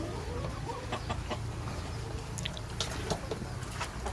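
Black Kedu chickens clucking in a free-range coop, a steady chorus of nearby clucks and low calls with scattered sharper notes over continuous farmyard background.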